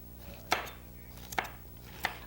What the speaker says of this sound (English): with the squash, you just cut the end off, and again, you make the rounds like so